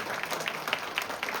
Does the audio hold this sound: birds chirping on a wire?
no